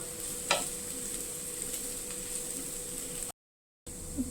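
Chili powder stirred into masala frying in a pan for a capsicum and sweet corn curry, a steady soft sizzle with a sharp scrape near the start, then a brief break and a faint clink.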